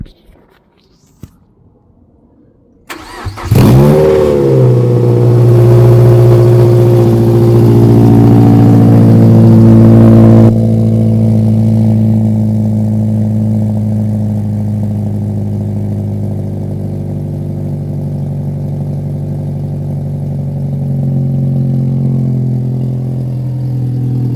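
A loud Mazda MX-5 NC engine roars to life after a brief quiet start, then holds a steady, heavy rumble that eases slightly but stays loud throughout.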